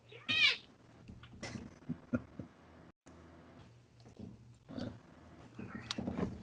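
A house cat lets out a sharp meow near the start, then fainter mewing and rustling follow over a low background hum, with another brief cry toward the end.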